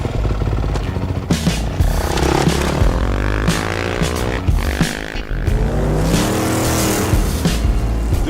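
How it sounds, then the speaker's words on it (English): A truck passes close by on a highway, a loud, steady engine and tire roar that swells and fades, with no talk over it. "Wait till this truck goes."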